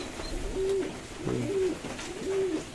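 Fancy pigeons, including checked satin birds, coo in a loft during rain, three soft rolling coos in a slow repeating rhythm, close by, with no talking.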